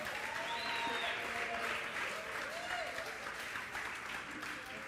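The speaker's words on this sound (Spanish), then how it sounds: "Dale un aplauso al Señor" Steady applause from a church congregation, continuous broadband clapping held at a fairly even level for the full stretch, with faint voices mixed in underneath.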